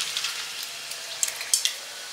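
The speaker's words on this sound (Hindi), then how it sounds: "तेजपत्र पकेबा" Bay leaves frying in hot oil for a rohu fish korma, a soft, steady sizzle with small crackling pops, close and fairly quiet.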